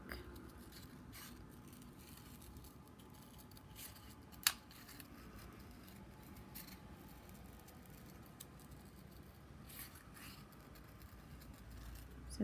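Scissors cut paper closely around a black outline for a Mother's Day floral craft, making faint, sparse snips with one sharper clip against a quiet background.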